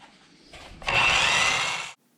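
Old saw blade rubbed against a fine sharpening stone, a steady close abrasive scraping that builds after a softer start, holds loud for about a second, then stops abruptly.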